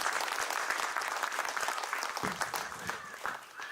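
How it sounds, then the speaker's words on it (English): An audience at a Christmas lecture in Parasmani, Santiniketan gives Father Felix Raj a loud, sustained round of clapping that tapers slightly near the end, with a voice speaking faintly beneath it. "Let's have a loud applause for our respected Father"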